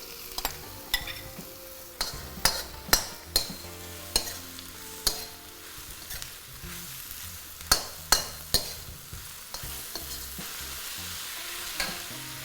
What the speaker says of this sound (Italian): Sentite come sfrigola bene?